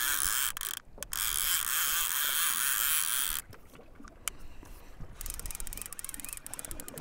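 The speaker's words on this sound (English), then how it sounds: "Turn that clicker off because that's annoying" Loud rapid ratcheting from a fishing reel's clicker while trolling for lake trout and salmon, a continuous buzz that cuts off abruptly, followed by quieter mechanical clicks and rattles on the boat.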